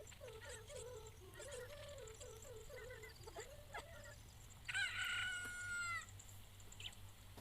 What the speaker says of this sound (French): Un poulet est sorti de ton œuf.